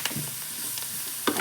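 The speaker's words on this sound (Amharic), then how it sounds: "ከዛ እንደዚህ እንጠብሰውና ብራውን እስከሚሆን ድረስ እንዲህ እንጠብሰዋለን።" Food frying in butter in a pan until brown gives off a close, steady sizzle with a few sharper crackles and stirring scrapes near the end.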